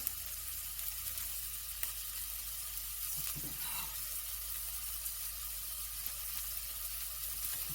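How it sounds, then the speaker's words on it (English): Onions sizzle in a pot of oil as the base for a soup, a soft steady frying hiss that stays faint and even throughout, with no talking. "We're gonna start off by adding our starting condiments, which is onions, which we will cook until it's translucent."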